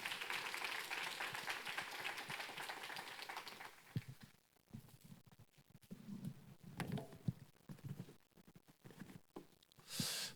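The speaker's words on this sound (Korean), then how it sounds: "큰 박수로 우리 환영하겠습니다." A church audience at a 2018 assistant pastors' retreat claps to welcome a pastor to the podium, the applause dense and steady for about four seconds before thinning into scattered claps and murmuring, with a brief swell near the end.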